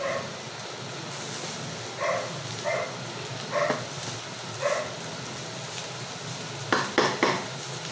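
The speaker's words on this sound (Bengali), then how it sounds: "এবার এটার মধ্যে মিক্স করে দিচ্ছি আমি কাজু আর কিশমিশ ভাজাটা" Fried cashews and raisins are stirred into veg fried rice in a pan, giving a series of soft scraping clinks of a utensil against metal at irregular intervals, ending with a quick cluster of sharper taps, with faint sizzle in the background.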